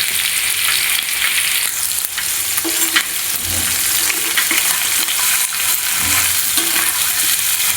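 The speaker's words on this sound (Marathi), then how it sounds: "पण तेलात थोडंसं हे फ्राय करून घ्यायचं" Frying with stirring in hot oil in a pan, a steady loud sizzle running throughout with a few scraping stirs, close and alone with no talking.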